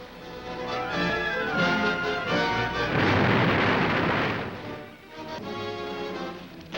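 Grenades burst against enemy bunkers on Bunker Hill during Korean War fighting, a run of rough booms and blasts with one large surging explosion midway, heard through old newsreel audio.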